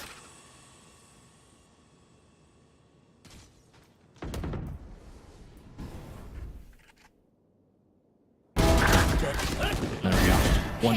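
Bursts of gunfire in the video game Valorant during a competitive match, scattered shots and booms followed by loud sustained firing near the end.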